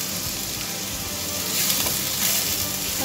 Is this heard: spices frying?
yes